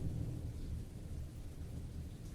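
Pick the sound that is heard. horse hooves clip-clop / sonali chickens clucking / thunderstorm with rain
thunderstorm with rain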